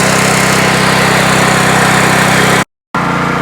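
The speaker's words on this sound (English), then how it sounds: "If you don't have power in your site, hire these kind of generators." A power generator hired for a village house building site runs with a steady, loud engine drone, unchanging throughout except for one abrupt brief silent gap near the end.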